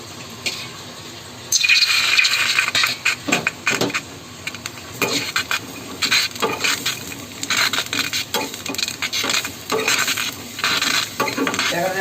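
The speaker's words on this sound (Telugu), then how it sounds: "ఇప్పుడు మనం ప్యాన్లో మిర్చి, టమాటా, చింతపండు," Chillies, tomato, tamarind and garlic frying in a pan, with a loud close sizzle and repeated clattering scrapes of a utensil against the pan in an irregular rhythm, no talking.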